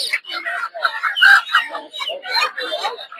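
Native chickens at the Putia village market in Narsingdi cluck loudly and continuously at close range, with a busy stream of overlapping calls.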